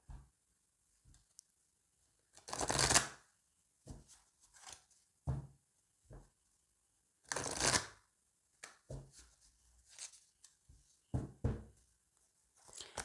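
Oracle cards being shuffled for a tarot reading, heard as quiet, irregular bursts of riffling and soft slaps between short pauses, with no one speaking.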